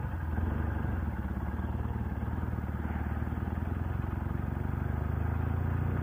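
A Martini Racing sidecar motorcycle engine idles close by, a steady low throbbing rumble with a fine mechanical clatter, holding an even level throughout.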